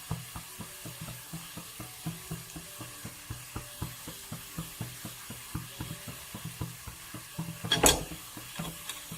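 Turmeric powder fries in oil in a pan for banana flower thoran, a low sizzle under regular, rhythmic scraping strokes of a spoon against the pan, with a louder clatter near the end.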